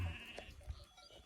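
Sheep and lambs bleat a few times, one call up close and others softer, over a low murmur of farmyard background.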